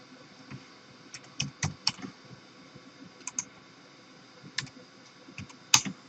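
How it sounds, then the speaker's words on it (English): Scattered clicks of typing on a computer keyboard during dental CAM software data entry, irregular bursts of close, fairly quiet keystrokes with short pauses between them. "you'll just go ahead and type in what the patient's name was, and the dentist"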